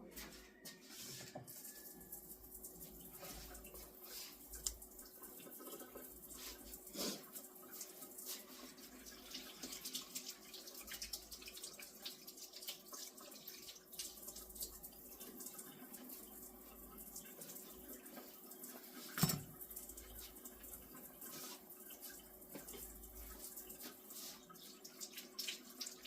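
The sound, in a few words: rinsing food under running tap water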